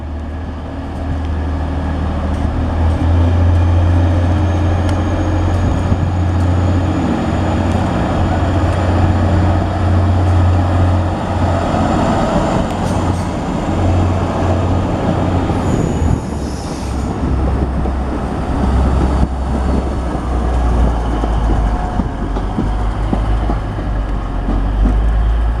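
A TransPennine Express class 185 diesel unit pulls out of Scarborough station, a loud, steady rumble of engine and rolling wagons with sharp wheel squeal rising over it, close by and with no talking.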